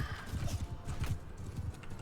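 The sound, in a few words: horse hooves galloping in the video game Mount & Blade II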